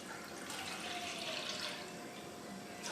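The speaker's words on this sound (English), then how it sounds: "So I'm gonna put some milk inside of this pot." Milk poured into a cooking pot, a faint steady liquid trickle and splash running continuously, quiet and close with no talking.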